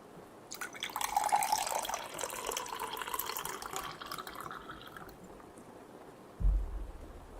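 Rain drips and patters steadily through a forest on a rainy evening, a soft wash of water that swells and then thins. A low thump comes near the end.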